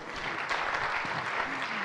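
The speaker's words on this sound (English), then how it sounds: "One more round of applause." Audience applause fills the hall at the close of a startup conference session in Bangkok, a continuous, fairly faint patter of many hands clapping with a little talk mixed in.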